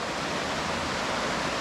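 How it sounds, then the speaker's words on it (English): Heavy river water along the Upper Delaware rushes in a steady, dense roar, loud and continuous with no talking over it. "that's a lot of water flowing pretty heavy"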